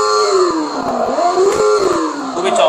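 An R3 Super kids' toy motorbike plays a loud electronic engine sound that imitates a real motorbike, a continuous wavering revving whine that rises and dips, with no talking.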